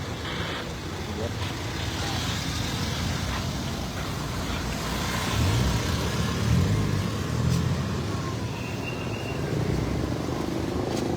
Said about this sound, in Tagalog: Daming kotse.